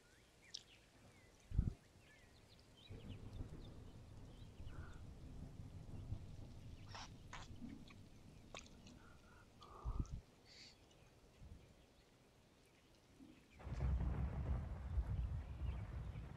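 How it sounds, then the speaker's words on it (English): Rain and thunder in the video game William and Sly: soft, steady rainfall with faint scattered ticks, and a low, heavier thunder rumble rolling in near the end, all quiet and distant. "It never stops raining."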